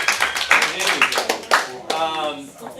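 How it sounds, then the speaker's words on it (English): Scattered clapping from a small group at a sales meeting rises and falls in uneven bursts while voices talk over it. "Give Ashley a round of applause."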